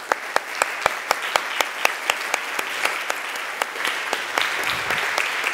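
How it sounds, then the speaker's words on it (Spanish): Loud applause welcomes a speaker at an education and economic development congress, with sustained crowd clapping and sharp individual claps standing out in a regular rhythm. "con un fuerte aplauso"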